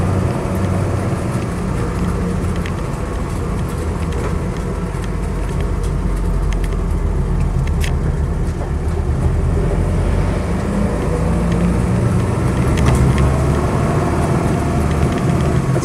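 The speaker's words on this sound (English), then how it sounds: "so wheel brace and starting hand in the back that are rattling around a bit" Inside a moving Land Rover Series III 88-inch hardtop, a loose wheel brace and starting handle rattle in the back. The rattling sits under a constant heavy engine and road rumble that runs through the whole stretch, with no talking.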